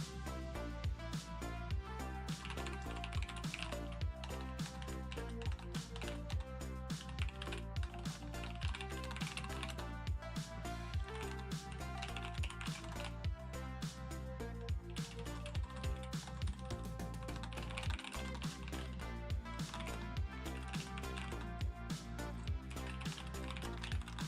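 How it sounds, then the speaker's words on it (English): Fast, continuous typing on a computer keyboard during a game development session, dense clattering keystrokes running steadily for over twenty seconds beneath a layer of background music. "My fingers are typing"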